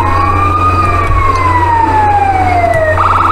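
Ambulance siren in the video game GTA 5, a loud wailing tone sweeping slowly down in pitch over a low engine rumble, switching to a rapid yelp pattern at the end.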